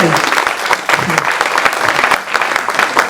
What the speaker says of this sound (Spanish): Denle un aplauso de felicitaciones